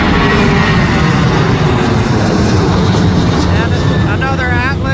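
Boeing 747 cargo jets taxi at Anchorage airport, their engines a loud, steady, close roar that holds throughout, with a whining tone rising and wavering toward the end.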